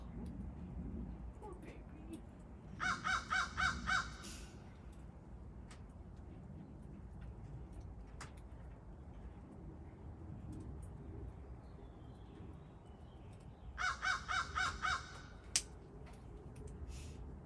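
A raven calling outdoors in two separate bursts of rapid, hoarse croaks, each lasting about a second, heard at moderate distance against quiet background noise.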